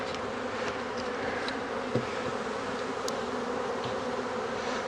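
Honeybees from a newly installed nuc buzz steadily around a new hive, a dense, continuous close hum with individual bees zipping past now and then, and no talking.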